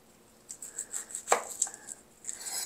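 A knife mincing shallots on a cutting board, a quick run of about a dozen close, crisp chops in an uneven rhythm, with no talking.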